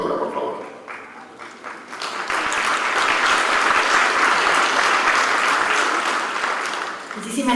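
Audience applause fills a forum hall, building after a quieter opening to a loud, steady wash of many hands clapping that fades slightly near the end.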